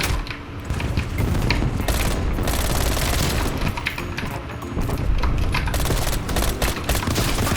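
Rapid MAC-10 submachine gun fire in Call of Duty: Black Ops Cold War, dense continuous bursts crackling loudly throughout with scattered heavier booms and no speech.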